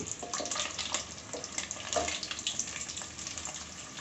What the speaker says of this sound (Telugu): ఇట్లా పగులుతున్నాయి కదా అవి చిటుకులు వచ్చి పడతాయి ముఖం మీద